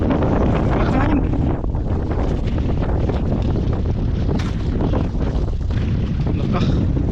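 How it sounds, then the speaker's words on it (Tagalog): Strong wind at sea buffets the microphone on a small fishing boat, a continuous loud roar with gusty rumble and water noise throughout, no clear speech. "Lakas ng hangin."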